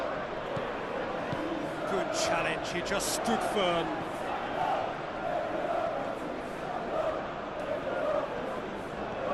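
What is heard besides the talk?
crowd in PES 2021 football video game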